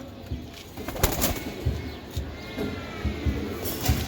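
Kalodoma pigeons coo close by, repeated low throaty coos in uneven bursts, with faint rustling of wings between calls and no talk.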